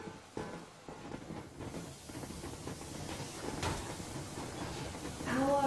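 A steam train in the video game Metro Exodus rumbles and hisses along steadily with rhythmic rail clatter at moderate volume. A voice briefly sounds near the end.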